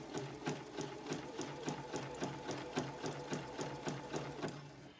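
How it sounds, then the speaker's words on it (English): A sewing machine runs steadily while stitching appliqué with a satin or close zigzag stitch, its needle beating in an even, rapid rhythm for the whole stretch, close and unaccompanied by talk. "if you do not have a satin stitch on your machine, you can use a zigzag stitch"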